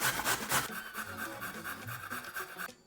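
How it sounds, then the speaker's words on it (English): Carrots rasp against the larger holes of a box grater in a steady series of rhythmic scraping strokes, close and moderately loud, with no voices. "using my box grater and the larger of the holes, I'm going to grate the carrots"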